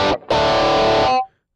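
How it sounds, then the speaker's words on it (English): Rockman-style distorted electric guitar with a nasal, compressed tone: a short chord stab, then a sustained ringing chord that cuts off cleanly after about a second. "That's a great Rockman distortion sound, that really nasally."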